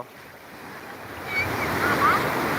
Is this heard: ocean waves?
yes